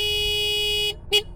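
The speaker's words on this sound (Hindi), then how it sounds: "अरे रॉकी, हॉर्न बजाना बंद कर यार, आ रहा हूं।" A car horn blares in one long, steady honk that cuts off, followed by a second short toot, loud and close, with no talking.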